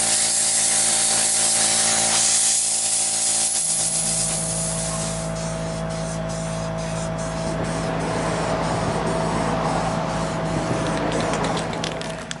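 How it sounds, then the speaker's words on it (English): Compressed air blowing loose paint off car door panels during refinishing: a loud, steady broadband hiss runs throughout with a low mechanical hum beneath, and the air flow stutters slightly in the second half. "I'm just blowing off loose paint with some compressed air"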